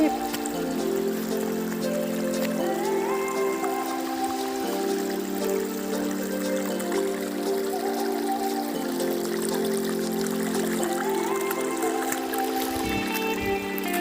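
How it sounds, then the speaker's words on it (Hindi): A small waterfall stream flows in a forest, a steady, close trickle and splash that continues unbroken, with faint musical tones over it. "यहाँ हमें छोटा झरना स्रोत मिला है,"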